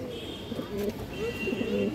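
Black Muslodom pigeons coo in a loft, low rolling calls repeating several times close by while someone talks over them.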